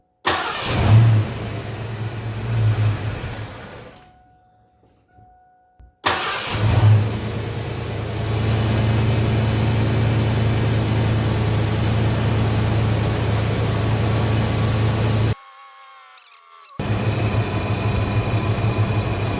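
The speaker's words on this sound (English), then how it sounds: "I'm going to let the engine run" A car engine idles steadily and close, with a low, even hum that drops out briefly twice before resuming.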